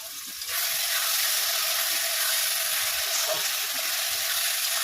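Sesame-rinse water hits a hot cooking pan with a sudden burst of steam, then a loud, steady hiss and sizzle that carries on alone.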